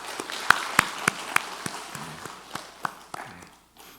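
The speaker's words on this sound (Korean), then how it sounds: "우리 하나님께 큰 박수로 영광 올려드리겠습니다" Sharp claps ring out in an even rhythm at a church service, a handful of distinct slaps that soften and thin out toward the end.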